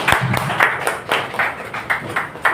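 Scattered applause from a small audience at an RCM business seminar, claps arriving in loose rhythmic bursts at moderate loudness, with a faint voice in the background.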